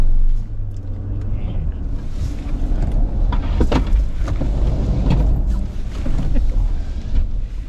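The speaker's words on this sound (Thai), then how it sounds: "three two one go ไปเราลองสลาลอมกันนะ" A GWM car accelerates through a slalom test. A steady engine and road rumble builds and holds throughout, with a voice talking over it.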